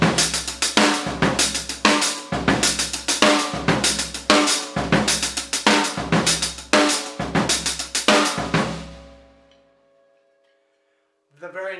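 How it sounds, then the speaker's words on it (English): A linear drum pattern on a kit, with everything played on the hi-hat except accented snare strokes, repeats in steady, crisp bursts for about nine seconds, then rings out and stops. "play everything on the hi-hat except for the accented snare drums"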